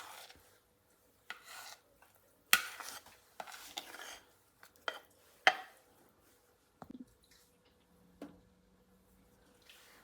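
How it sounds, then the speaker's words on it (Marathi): Eggless chocolate cake batter going into a greased tin, with soft scraping and rasping strokes of a spatula against the tin and several sharp clinks. Quiet, intermittent and without speech. "हे बॅटर घालूया।"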